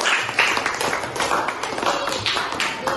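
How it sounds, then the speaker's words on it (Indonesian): Elementary school classroom claps together for a classmate during a game-based lesson, a busy, uneven patter of many small hands, fairly close and loud, with some chatter mixed in. "beri tepuk tangan bersamanya"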